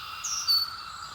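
Brood X 17-year cicadas make a thin, steady buzzing drone with one slight swell, faint and with no other sound.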